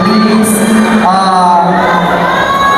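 Pageant audience at the Miss Pride of Luna 2022 finals, a dense wash of crowd noise with cheering, whoops and children's shouts, loud and continuous throughout, with a voice rising out of the din partway through.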